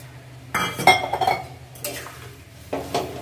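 Dalia polao ingredients are stirred in a metal pot, giving close, loud clinks and scrapes of a spoon against the pot in a few short bursts with quiet gaps between.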